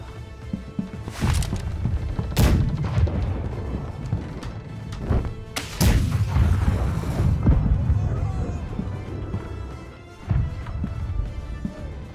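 Ship cannons firing during a naval battle in the pirate game Blackwake: several loud, booming blasts at irregular intervals, some close and heavy, set against a constant rumble of sea and wind.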